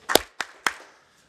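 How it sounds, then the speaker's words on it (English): Scattered claps from an audience at a listening session respond to a call, with three quick clap bursts in about a second, fairly sharp and close, then silence. "Clap once if you can hear my voice."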